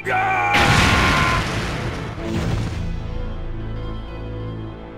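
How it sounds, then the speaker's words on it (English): A brick of C4 on an electric detonator goes off in Resident Evil 3: a huge, loud blast with a heavy rumbling tail, then a second crashing burst that decays into a long, low reverberant roar. "you also got a timed bomb explosive, a brick of C4 attached to an electric detonator"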